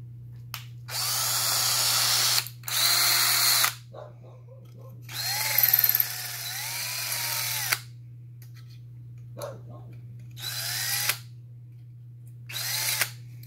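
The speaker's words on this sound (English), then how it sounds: "I'm gonna drill those off just a little bit to try to get rid of that burr." A power drill whirs in several separate bursts, removing a burr on a 2014 Chevrolet Silverado LTZ headlight, each a few seconds long with short pauses between, close and loud over a steady low hum.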